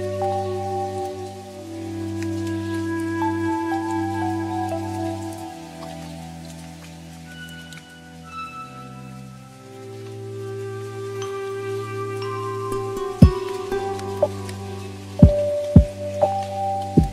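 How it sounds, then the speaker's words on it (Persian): Rain falls under a lofi music track with sustained tones, the patter soft and continuous beneath the music, with a few sharp drip-like clicks near the end. "آسمان هم که بارانی است"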